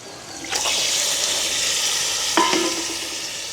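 Meat tipped into a pan of sautéed onions and spices, bursting into a loud sizzle that holds steady, with a clatter of stirring near the end; no talking.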